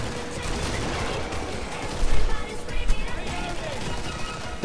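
A grenade launcher firing in a video game, a steady barrage of gunfire-like thumps with a louder burst of repeated shots in the middle, dense and close.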